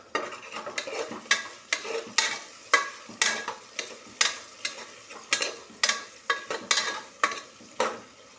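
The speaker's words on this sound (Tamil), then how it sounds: "தக்காளியை வதக்கி விட்டுக்குவோம்." Tomatoes fry in a pan for quail biryani, a close, light sizzle broken by a steady rhythm of spatula scrapes and stirs against the metal, with no one speaking.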